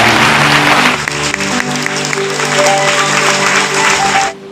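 A congregation claps loudly during a Hindi church sermon, sustained dense applause with instrumental tones underneath for about four seconds before cutting off abruptly.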